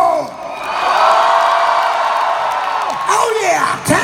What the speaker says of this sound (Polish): To naróbcie wrzaską.